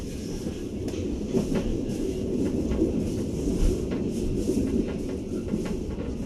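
A steady low rumble of a train rolls past at Rancaekek station near Bandung, Indonesia, with faint rhythmic clacks over the tracks and no talking.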